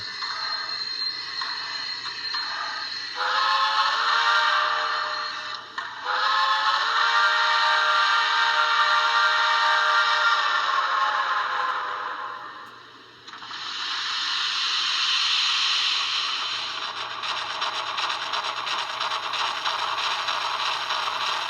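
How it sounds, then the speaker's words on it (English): A model steam locomotive fitted with an ESU sound decoder starts up with a hiss of brake release, followed by a sustained loud steam hiss and mechanical chuffing that swells, briefly dips and resumes, heard alone without talk. "As soon as I hit F7, it will release the brake and the locomotive will start."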